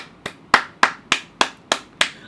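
Seven sharp hand claps ring out alone in an even, steady rhythm, close and crisp.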